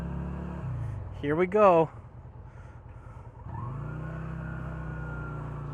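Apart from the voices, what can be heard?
motorcycle riding off past a queue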